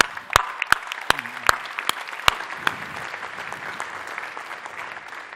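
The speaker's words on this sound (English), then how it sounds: "Give them a clap!" An audience at a startup ecosystem talk gives a round of applause, opening with several sharp, distinct claps that blend into softer, scattered clapping as it fades.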